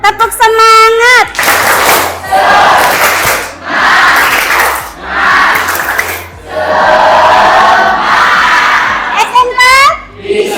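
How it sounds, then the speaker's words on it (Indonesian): A class of vocational high school students performs a tepuk semangat cheer, bursts of loud group chanting and shouting with clapping in rhythmic waves, a teacher's voice briefly heard at the start and end. "Tepuk semangat."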